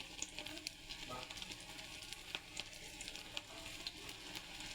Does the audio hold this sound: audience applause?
no